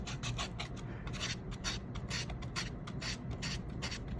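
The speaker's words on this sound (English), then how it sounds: "Now we're going to take the 400 and then just do the same thing. Sand it down, sand it down" Steady back-and-forth rasping of a 400 grit sanding sponge worked over a small plastic model part, close and continuous with rapid regular strokes and no talking.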